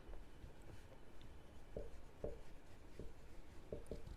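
Marker or chalk strokes on a board while writing out triangle angles: short scratchy taps and squeaks in an irregular rhythm, faint and close, with no talking.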